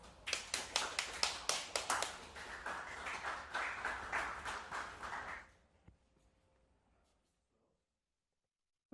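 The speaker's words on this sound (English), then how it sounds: "So please give him a warm round of applause." An audience at a VueNYC developer meetup applauds a speaker: a burst of clapping, sharp at first, then thinning and fading out after about five seconds into near silence.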